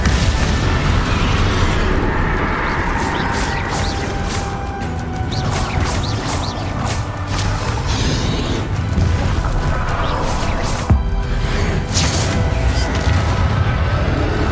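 Bombarda blasting spell cast during a battle in Hogwarts Legacy, loud booming explosions and crashing bursts recurring over a dense, chaotic fight soundscape with magical whooshes.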